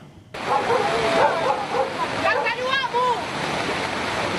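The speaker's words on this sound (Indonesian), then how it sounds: "Arus deras langsung menghantam permukiman warga di Kecamatan Tuka" Rushing flash-flood water slams into a residential settlement in Tuka district, Central Tapanuli, a loud continuous roar of torrent and surf-like splashing, with faint voices mixed in.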